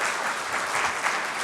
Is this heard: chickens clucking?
no